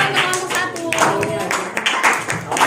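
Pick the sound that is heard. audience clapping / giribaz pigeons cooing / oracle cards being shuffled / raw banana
audience clapping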